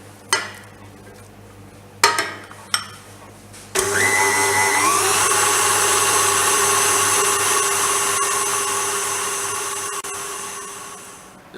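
A few clinks of ingredients going into a food processor for almond paste, then the motor starts and whirs loudly and steadily for several seconds, its pitch easing slightly as the mix blends.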